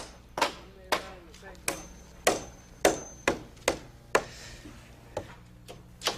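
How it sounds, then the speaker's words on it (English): A hammer drives nails through gable studs into a rafter while a house's gable end is framed, with about a dozen sharp, ringing blows at a steady, unhurried pace, close and loud over low background noise. "when you're nailing off the top end to the rafter"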